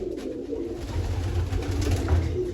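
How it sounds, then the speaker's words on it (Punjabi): Pigeons coo softly in a continuous low murmur after being fed, several birds close by, steady and alone without talk. "ਕਬੂਤਰਾਂ ਪੂਰੇ ਰੱਜ ਗਏ ਆਉਂ"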